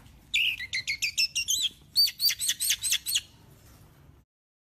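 An orange-headed thrush sings two bursts of rapid, bright repeated chirping phrases, clear and fairly close, with quiet background in between.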